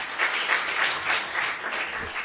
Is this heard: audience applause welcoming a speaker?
yes